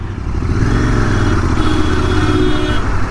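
A 2023 Royal Enfield GT650 twin-cylinder motorcycle idles and revs steadily close by, its engine drone continuous and loud throughout with a throaty exhaust note and mechanical clatter.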